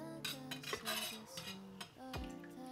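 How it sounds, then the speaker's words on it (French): A spoon stirs rennet gently into milk in a pot. Soft, quiet metallic clinks and scrapes sound over a faint steady tonal background. "Et je vais brasser délicatement pendant 1 minute"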